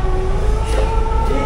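A steady, loud train rumble with a constant low roar and sustained tonal hum, heard from inside the moving carriage.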